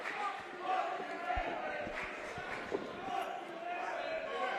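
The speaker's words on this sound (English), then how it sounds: "Crowd letting Maven Bentley know what they feel about him" A wrestling crowd at a CZW Best of the Best event reacting to Maven Bentley, a sustained roar of voices and shouts with a few thuds, distant and moderately loud.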